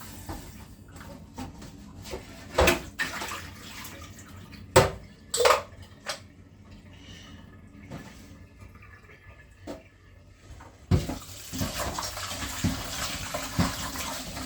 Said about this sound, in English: So let's pour the water off